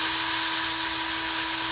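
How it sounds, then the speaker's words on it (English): Power drill grinding steadily into the metal post of a Hot Wheels Toyota Land Cruiser toy car during restoration, a continuous close whine with no talk. "You got to be real careful on this back part because it's just plastic, but you just drill it out right there."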